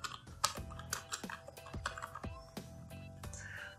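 Fingers tapping a computer keyboard: irregular clicks of typing at a moderate pace, close and fairly quiet, alone without talk.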